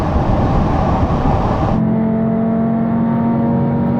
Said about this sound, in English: Oh, look at the Audi go!